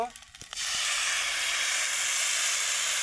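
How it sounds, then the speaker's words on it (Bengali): A loud, sudden hiss bursts out after a brief knock, as water hits a hot pan of fried rice on a clay stove, then a steady sizzling roar continues strongly to the end. "এই যে পানি দিয়ে দিলাম"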